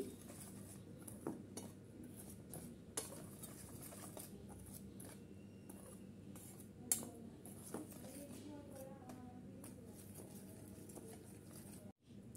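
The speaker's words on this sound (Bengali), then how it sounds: "এখন এখানে একটু শুকনো উপকরণগুলো আমি মিক্স করে নিচ্ছি।" A spoon stirs dry ingredients in a bowl for a raw banana snack, with a spice packet mixed in. Faint, steady scraping and light clinks run throughout at low volume, with a few sharper taps.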